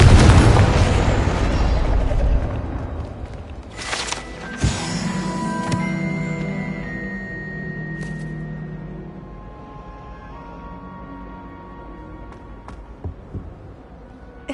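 Confringo spell explosion in the Hogwarts Legacy video game: a loud burst at the start rolls into a long rumbling fade, followed by a second sharp blast and ringing, tonal debris settling to quiet.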